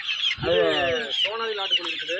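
Country chicken chicks at a poultry seller's place cluck and chirp close by in a dense, overlapping chorus of short calls, with a person talking among them.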